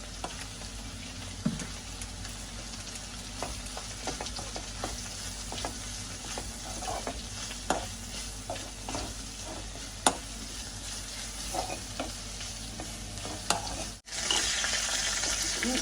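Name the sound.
grated coconut frying with snake gourd in a pan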